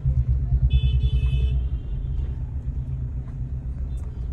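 A car engine rumbles low and close as it shifts into a higher gear, with a pulsing throb at first that settles into a smoother, steadier drone.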